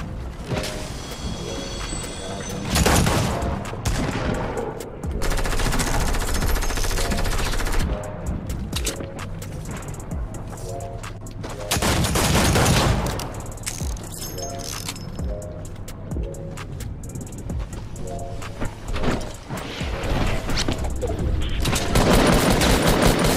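Sniper fire and bursts of gunfire from the Fortnite video game come in repeated loud volleys with heavy booming impacts, overlapping one another across the whole stretch.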